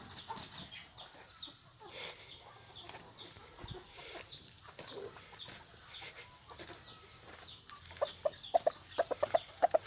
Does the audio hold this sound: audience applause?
no